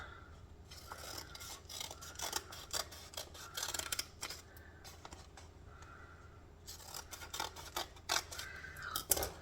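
Scissors snip freehand through folded paper for a snowflake-style craft, a quiet run of short, uneven rasping cuts in quick bursts, close by with no talking.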